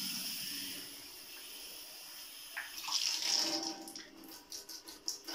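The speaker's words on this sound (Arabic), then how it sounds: "هادو كلهم غادي ناخذوهم، غادي نضيفوا لهم الماء" Water poured over cinnamon, thyme and eucalyptus, a quiet trickle that builds into a brighter, splashing pour partway through, close and alone with no voices.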